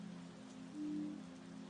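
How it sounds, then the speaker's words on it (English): Rain falls on city rooftops in Istanbul as a steady soft hiss, fairly faint, with a low sustained tone swelling briefly in the middle. "The rain came without warning."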